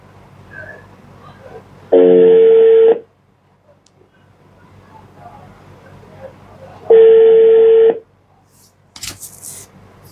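An outgoing phone call ringing on the line, two long, even tones about five seconds apart with quiet gaps between.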